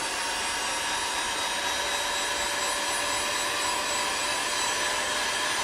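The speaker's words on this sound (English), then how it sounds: "Now to melt the wax into the leather, so heat gun, just gently warm them up." A heat gun blows hot air to melt wax into leather, giving a steady, close, unbroken roaring whoosh that holds an even level throughout.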